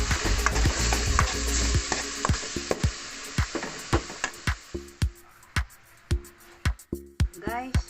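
Miso and tomato stirred in a cooking pot for salmon-head sinigang: a steady run of close, sharp spoon scrapes and knocks against the pot, spaced about half a second apart, over a fading bed of sizzle.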